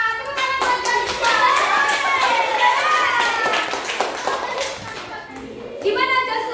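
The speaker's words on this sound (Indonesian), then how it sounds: "Tepuk tangan buat Joshua." Children in a classroom clap for a classmate, a steady patter of small hands mixed with kids' voices and chatter, fairly close and lively, fading briefly before a fresh burst near the end.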